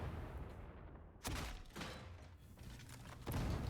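A shotgun-like weapon fires in the video game Warhammer 40K Darktide, three or four heavy booming blasts at irregular intervals over dense game ambience, with no talking.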